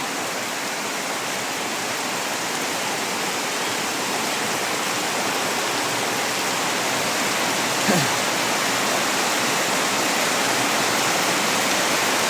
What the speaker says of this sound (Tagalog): Grabe, lalong lumalakas yung ulan